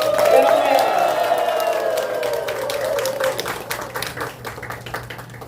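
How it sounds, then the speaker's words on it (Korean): An audience at an evening church summer-retreat gathering breaks into loud cheering and clapping, a dense burst of whoops and applause that gradually thins into scattered claps. "함성과 박수와 크게 격려 주시면 감사하겠습니다."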